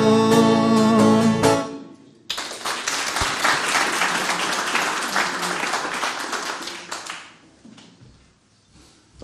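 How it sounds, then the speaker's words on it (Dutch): An audience at a Leiden volunteer awards ceremony breaks into steady, fairly loud applause after a sung piece. The last music fades out first, and the clapping then tapers away. "Dankjewel voor het klappen en Esdor voor het zingen."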